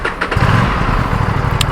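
An Aprilia RS457 motorcycle engine cranks briefly, then fires and settles into a steady, loud, close idle rumble, with no talk over it.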